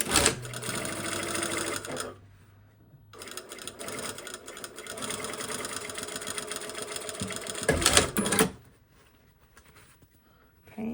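Domestic sewing machine understitching seam allowances to a facing on a lined garment with an invisible zipper, a steady close mechanical whirr in two long runs with a brief pause between and a stop near the end.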